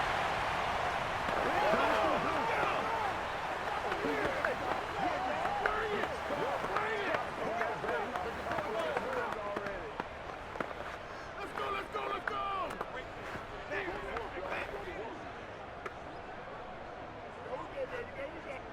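Stadium crowd roaring steadily in a Madden 22 simulation of Rams vs Giants football, a broad sustained swell that eases slightly midway, with a commentator talking over it throughout.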